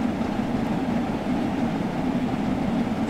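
An LMS Jubilee steam locomotive running between Liverpool and Crewe in Train Sim World 2, heard as a steady, even rumble with no distinct beats throughout.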